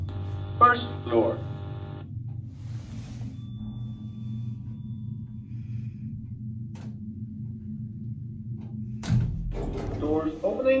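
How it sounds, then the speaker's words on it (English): A SuperValu supermarket lift in Manorhamilton, County Leitrim, hums steadily with a brief announcement voice near the start, then its sliding doors move with a clunk and rumble toward the end. "Doors opening."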